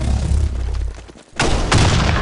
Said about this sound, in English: Fire in the hole! Grenade! Grenade!